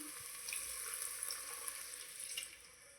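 Water pouring steadily into a pot, a soft continuous splashing stream that tapers slightly at the end, fairly quiet and without speech.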